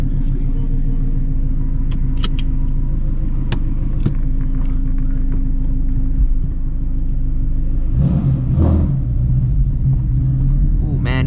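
A Shelby GT350 Mustang pulls out of a gas station at night, its engine a loud steady rumble close by, rising briefly near the end, with a voice talking over it.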